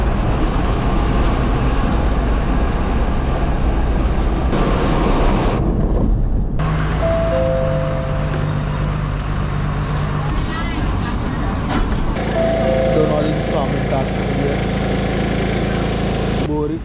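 An MSRTC Lalpari bus engine drones steadily on a long road journey from Nagpur to Pandharpur, with a constant loud rumble, road noise and occasional horn-like tones, and people talking faintly inside.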